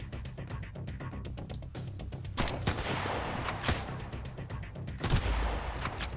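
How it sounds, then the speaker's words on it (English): Machine gun fire in the survival game Sunkenland during a pirate attack, steady rapid bursts repeating over several seconds with occasional sharper, louder reports and heavier thuds, no talking. "You have a fucking machine gun."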